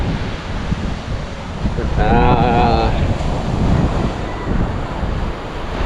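Wind buffets the microphone over the rumble of surf, with a brief voice rising partway through amid the steady roar of the sea.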